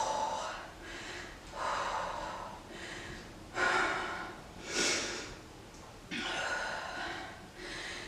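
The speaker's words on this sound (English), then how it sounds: "Take a deep breath, or lots of deep breaths in my case." Heavy, rhythmic deep breathing during a total-body strength and cardio interval workout, with about six or seven loud, close, airy inhale and exhale cycles, some ending in a puffing gasp.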